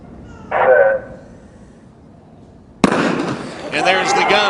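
A starting gun fires for the women's 200m final at the 2012 US Olympic Trials: one sharp, loud crack, followed by a broad crowd roar. A short voice-like burst comes earlier, before a quiet stretch.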